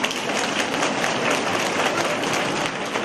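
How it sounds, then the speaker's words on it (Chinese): Audience applause at a Buddhist dharma gathering in Auckland, New Zealand: dense, even clapping from a crowd, sustained and loud for the whole stretch with no break. "鼓掌。"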